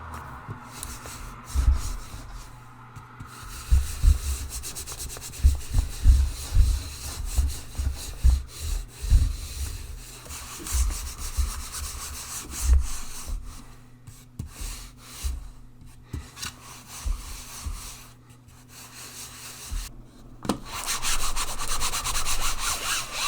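A SteelSeries Aerox 3 Wired gaming mouse scrapes back and forth across a mouse pad in uneven bursts of gritty rubbing, close up, with a low steady hum underneath.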